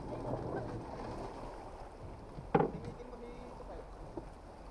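A small boat moves across water in Lobo, Batangas, with a low, continuous engine-like drone and wash, a brief knock, and faint voices in the background.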